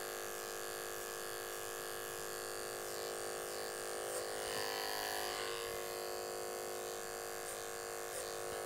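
An electric hair clipper buzzes steadily and fairly quietly while cutting hair for a low fade, a constant motor hum with small shifts in tone as it moves, no talking.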